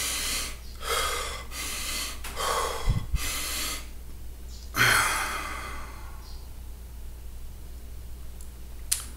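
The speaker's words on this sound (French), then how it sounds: "je vais forcer la respiration pour que tu puisses réellement te rendre compte de ce qui se passe" Forced, deep breaths during a Kundalini breathing exercise, several strong sighing inhales and exhales with short pauses between them, close and fairly loud with breathy rushes.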